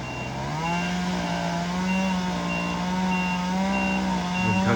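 A truck backing up on a rural Japanese tree removal site gives off a steady, continuous series of reversing beeps over a constant engine rumble, moderately near.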